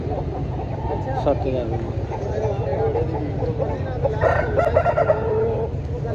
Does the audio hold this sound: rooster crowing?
yes